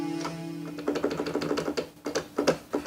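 Keys on a Korg Minilogue XD synthesizer pressed in a quick irregular run, producing dry plastic clicks and taps close up over a low steady hum, with no notes sounding from the broken keyboard.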